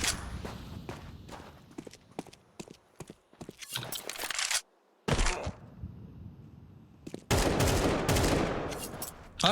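Counter-Strike gunfire rings out in sharp, loud bursts and rapid volleys, broken by short quiet gaps, with scattered footstep-like clicks between the shots.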